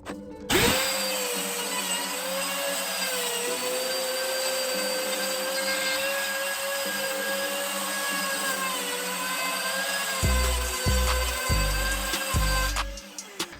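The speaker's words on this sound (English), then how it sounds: "I can put these carbide bits in the router to create a whole new tool" Handheld router spinning a carbide bit as it widens bolt holes for adjustable alignment bushings: a steady, loud high-pitched whine held for over ten seconds, with a few choppy cuts near the end before it winds down.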